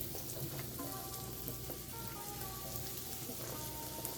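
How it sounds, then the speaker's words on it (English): Onions and celery sauté in extra virgin olive oil in a pan, a steady, moderate sizzle with fine crackling running evenly throughout, without any voices. "in here we're going to start sauteing our onions and our celery"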